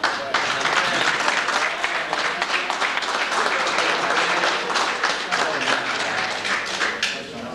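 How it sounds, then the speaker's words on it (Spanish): An audience at a certificate ceremony in Bulnes gives a sustained round of applause, thick, loud clapping rolling on for several seconds before easing slightly at the end. "Le brindamos otro aplauso más"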